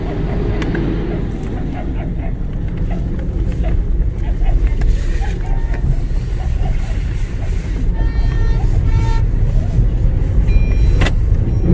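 Car driving on National Highway 156 in Rajasthan, heard as a continuous broadband rumble of road and engine noise that stays steady and fairly loud throughout.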